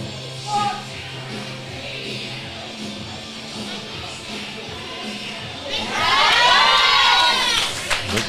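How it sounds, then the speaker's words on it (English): Noisy crowd at a powerlifting championship murmurs steadily in a hall, then swells into loud cheering and shouting near the end, with voices throughout. "the noisy crowd this morning"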